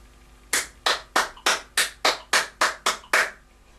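Hands clap out a steady rhythm against a metronome at 72, ten sharp, evenly spaced claps close up and alone with no talking.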